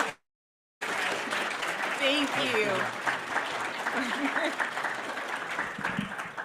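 A room erupts in sustained applause for a district governor at a weekly meeting after a brief silence, a dense steady wash of clapping with voices and laughter mixed in.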